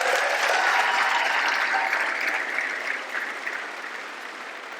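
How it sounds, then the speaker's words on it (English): Crowd applause at a community rally, a dense wash of clapping that starts strong and slowly tapers over a few seconds, with no talking. "we need to give them a big round of applause"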